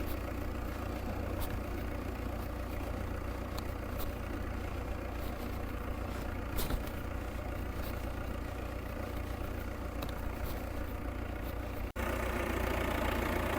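A Sonalika 750 three-cylinder tractor fitted with a four-row pneumatic maize planter idles steadily nearby with a constant low rumble, unbroken throughout apart from a brief click near the end.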